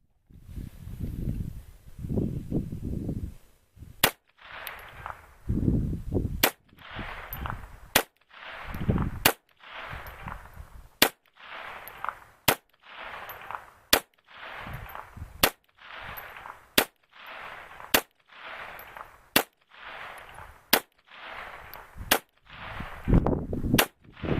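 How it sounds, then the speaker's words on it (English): CZ 82/83 pistol fired at a target: about fourteen sharp shots in a steady, evenly spaced string, each a loud crack followed by a brief ringing tail. "So I'm going to shoot the target on the left now and see what kind of group I get."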